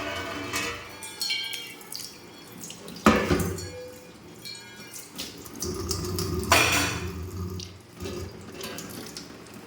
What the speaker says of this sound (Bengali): আর গরম মশলাটা বেটে রেখেছি ওটা দিয়ে দিই জল দিয়ে দিই